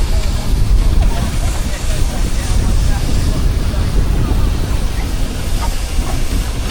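A steam traction engine drives past in an arena at a rural show, a continuous loud rumbling and hissing mechanical noise close by with a faint rhythmic clatter, under talk.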